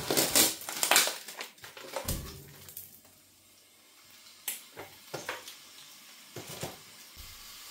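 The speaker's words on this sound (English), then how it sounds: "The pan with the oil's getting nice and hot, so it's time to add the stewing steak." Stewing steak is dropped into a hot oiled pan and browns with loud, crackling sizzle bursts, then quieter spits and pops come in scattered clusters as the meat settles.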